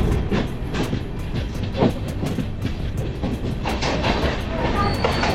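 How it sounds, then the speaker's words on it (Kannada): Vasco-da-gama Express on the Bangalore to Goa line pulling out of Davangere station and running along the rails: a loud, steady rumble with rhythmic wheel clicks throughout and no one speaking. "ಈಗ ನಮ್ಮ ಟ್ರೈನ್ ಮತ್ತೆ ಇಲ್ಲಿಂದ ಡಿಪಾರ್ಚರ್ ಆಯಿತು."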